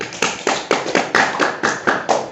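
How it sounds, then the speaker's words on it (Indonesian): Classroom of ninth-grade students clapping for a classmate, a sharp, loud and fairly slow rhythm of about nine distinct claps, close and clear with no talking. "tepuk tangan untuk Dimas."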